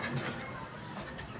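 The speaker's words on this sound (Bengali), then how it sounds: "এরপর আপনারা দেখতে পাচ্ছেন এক জোড়া রেসার কবুতর, লাল রেসার কবুতর।" A pair of red racer pigeons at the Mirpur-1 pigeon market in Dhaka give soft, low cooing calls amid a busy background murmur of the market.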